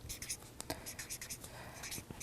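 Pen or marker writing on paper flashcards: quiet, close scratchy strokes in quick irregular bursts, with short pauses between words.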